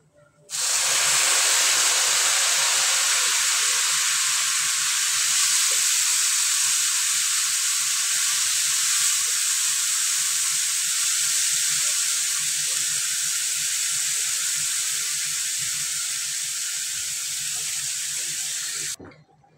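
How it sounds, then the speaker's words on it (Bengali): Hot water poured over fried rice in a pot for Basanti pulao, setting off a loud, sustained hiss and bubbling sizzle that lasts close to twenty seconds before cutting off abruptly. "আমি এখানে গরম জল দিচ্ছি"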